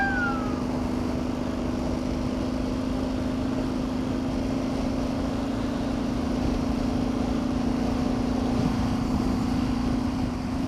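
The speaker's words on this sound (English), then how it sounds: "it is a single cylinder diesel engine" A single-cylinder diesel Kawasaki KLR motorcycle engine drones steadily and loudly throughout at about 50, a constant low rumble with a faint rising whine near the start.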